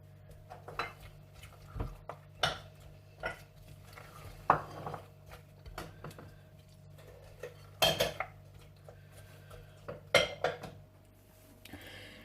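Utensils clink and scrape against a bowl as fruit cream salad is mixed, with intermittent sharp metallic taps and stirring scrapes at moderate volume, no talking.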